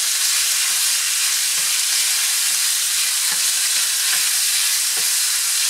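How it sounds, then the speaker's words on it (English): Pork and vegetables sauté in a pan with a constant, bright sizzle, and a few soft clinks of a utensil stirring scattered through it; no one speaks. "Now I'm going to let this saute."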